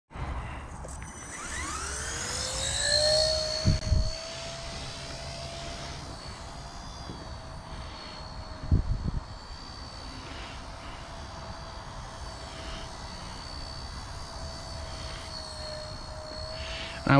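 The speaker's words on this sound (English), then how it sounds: "this thing is pretty snappy for a little helicopter." A Blade Nano S3 small RC helicopter whines up to a high pitch and holds a steady buzzing drone, with a couple of brief thumps along the way.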